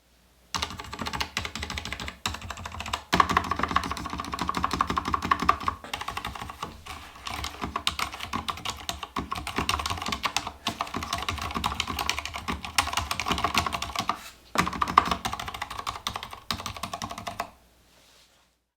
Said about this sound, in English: here's a typing test for y'all to hear what the keyboard actually sounds like